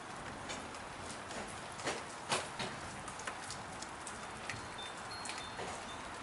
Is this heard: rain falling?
yes